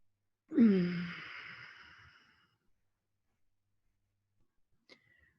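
During Tummo meditation, a single deep breath is released as a long, audible sighing exhale that starts strong and close, then fades out, followed by near silence and a tiny click.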